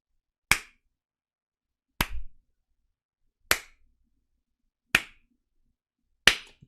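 Slow hand clapping: five isolated, crisp claps spaced evenly about a second and a half apart, each sharp and dry against silence, close and fairly loud.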